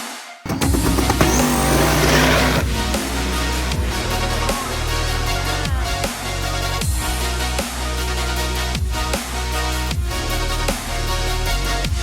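A loud, close drag-race engine roars and revs hard in rising surges with abrupt shifts, and brief tire noise, racing against an LS-powered wagon.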